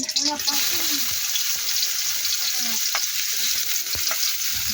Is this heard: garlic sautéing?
yes